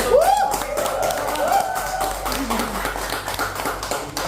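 A small group at a podcast gathering claps hands in a short, loose burst of taps, with a voice calling out over the clapping at the start.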